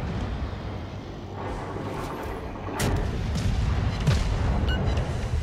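Cruiser guns of the Omaha in the World of Warships naval video game boom over a low ambient game rumble, a couple of heavy blasts standing out amid a steady background.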